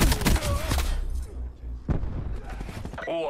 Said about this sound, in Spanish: Es impresionante la cantidad de disparos que les tengo que dar